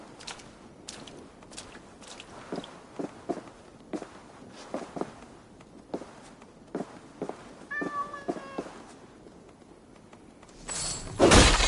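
Cats in the video game Assassin's Creed Valhalla meow briefly amid a scattering of soft footsteps and light clatters, ending in a louder burst of noise.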